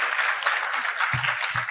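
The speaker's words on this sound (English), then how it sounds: "let's clap for Miss Jones in a better way" Audience at a creative arts and film literacy program event claps steadily, a moderate wash of many hands with a couple of low thumps near the end.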